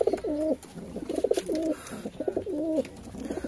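Pigeons, a mix of Giribaz and Madrasi breeds kept for sale near Kolkata, coo in repeated rolling phrases close by, several overlapping calls in a steady rhythm with no talk.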